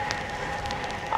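Steady broadband patter of rain heard while riding a bicycle around Exeter, UK, a continuous close hiss with faint drop crackles and no talk over the brief stretch.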